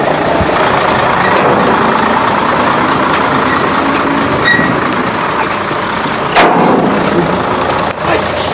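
A truck engine idles steadily at close range during a roadside waste cleanup, a continuous broadband rumble with brief mechanical clanks and a passing beep over it, no voices.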